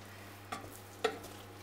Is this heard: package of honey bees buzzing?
no